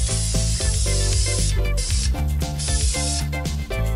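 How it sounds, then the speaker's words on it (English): Black spray paint hisses from a can in long bursts with short pauses between them, coating a coffee can speaker enclosure, over loud background music. "I'm going to knock on some black spray paint to make it look a little bit more smooth."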